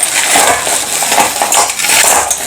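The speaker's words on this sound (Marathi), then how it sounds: "तुम्ही याचा आवाज ऐकू शकता एकदम टणक कडक झालेले आहेत हे पहा एकदम अगदी दगडाचा जसा आवाज येतो" Hard frozen amla gooseberries tumbling from a bag into a bowl, a dense continuous clatter like small stones rattling against the vessel, loud and close with no voices.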